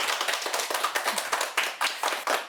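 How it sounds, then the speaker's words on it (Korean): Audience clapping for a Catholic priest after his lecture on the Book of Revelation, a crisp run of sharp hand claps from a small group, close and fairly loud, with an uneven rhythm and no talk. "오늘도 온 힘을 다해서 강의해 주신 신부님께 큰 박수 부탁드립니다."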